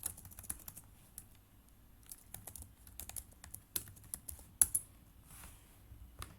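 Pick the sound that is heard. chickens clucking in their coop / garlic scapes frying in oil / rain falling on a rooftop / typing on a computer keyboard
typing on a computer keyboard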